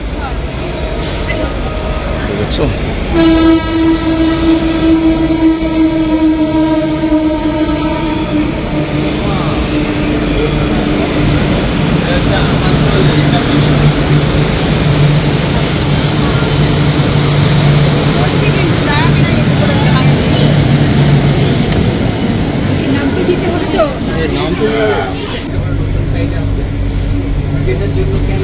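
A Kolkata Metro train pulls into Kalighat station with a loud, continuous rumble and rising, whining motor tones that swell and fade, while a person speaks briefly over the noise.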